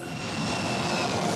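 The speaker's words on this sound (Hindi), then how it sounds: "I'll be flying with C-17 as Bhim formation in the Republic Day flypast." A C-17 transport and Sukhoi 30 jets fly over in a Republic Day flypast formation, making a loud, steady, broad engine roar with a faint high whine and no break.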